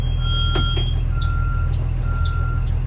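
A bus backs straight up during a CDL Class B driving test, its reversing alarm beeping steadily over the loud, constant rumble of an idling diesel engine.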